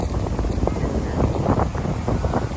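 Steady gusts of wind buffet the microphone in a low, continuous rumble on a cold New York City street, with a faint voice briefly audible beneath the noise.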